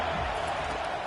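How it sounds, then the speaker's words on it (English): A football stadium crowd roaring loudly and steadily trying to help the home defense, a dense sustained wall of cheering noise filling the whole moment. "Listen to this crowd just shaking the girders of this place trying to help their defense."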